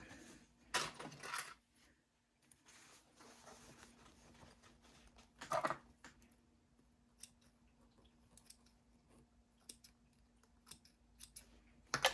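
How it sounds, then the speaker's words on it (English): Scissors snip threads on a sewn pouch, a few close, quiet sharp cuts with brief rustles of fabric between them in a hushed room. "I really should trim my threads as I go"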